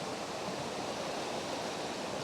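Powerful rushing water of the Kennall River pours steadily past an old gunpowder works, a dense, continuous roar with no pauses and no voices.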